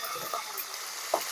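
Steady hissing sizzle of salmon frying in hot oil, with a couple of small pops breaking through.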